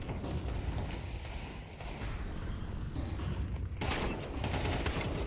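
Mag-7 shotgun fire in a professional Counter-Strike match, dense loud gunfire layered over continuous game noise, with a sharper burst of shots near the end.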